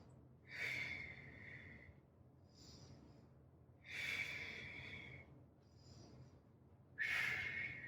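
A fitness instructor breathes through a core workout, with three long, hissing exhales spaced evenly apart and softer inhales between them, faint and close to the mic.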